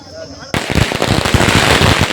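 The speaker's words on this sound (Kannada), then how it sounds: "ಅದು ಇಷ್ಟು ಬಿಸಿಲಾಗೆ ಪಟಾಕಿ ಹೊಡಿತಿದ್ದೀವಿ." Firecrackers go off at a village temple fair, the chariot festival of Marrama Devi in Vaddanahalli: after a brief quiet moment, a loud, dense burst of rapid crackling pops starts abruptly and keeps going without a break.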